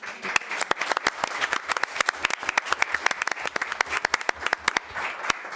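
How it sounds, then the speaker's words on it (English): Applause from a small group at a city council meeting, sparse and distinct, with individual hand claps clearly separated in an uneven, moderately loud patter. "I think you guys deserve a round of applause"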